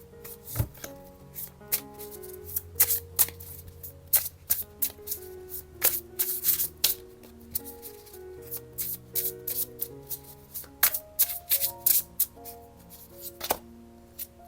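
A deck of tarot cards is shuffled continuously for a long stretch, with close, crisp slaps and riffling clicks in an irregular rhythm and a faint background tone underneath, no voices.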